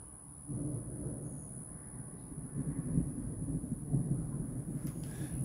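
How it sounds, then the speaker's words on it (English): Thunder from an afternoon storm in southeastern Georgia, a low continuous rumbling that swells and fades in waves, moderately distant, with a steady high electrical whine in the background. "yep, thunder."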